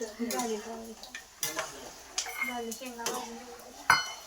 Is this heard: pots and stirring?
yes